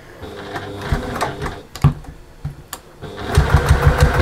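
A sewing machine stitches fabric around a circular seam on a trick-or-treat bag, running in short, uneven bursts with pauses, then a steadier rapid mechanical chatter near the end, close and fairly loud.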